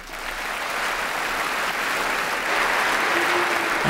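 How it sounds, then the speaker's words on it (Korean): Audience of university business students applauding to welcome Warren Buffett and Bill Gates, a steady wash of clapping from a large hall that builds slightly and holds evenly, with no talk. "네브라스카 링컨 대학교 경영학부 학생 여러분, 워렌 버핏과 빌 게이츠를 박수로 환영해 주십시오."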